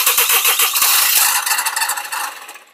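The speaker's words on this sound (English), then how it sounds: "So now I'm starting the engine" A Mercedes Vito van's engine cranks and labours to start after a fuel filter change, a rapid rattling churn that roars up loud, then sputters and fades unevenly toward the end.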